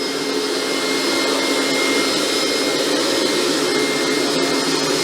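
A Hoover SmartVac carpet cleaner runs with a loud, steady whine and rush of suction, held at constant level while moving across carpet, no voices.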